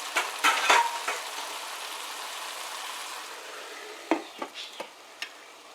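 Cabbage and chicken with salt cooking under a lid in a pot, a soft steady sizzle that fades down, with a few close clinks and scrapes of a utensil near the start and end.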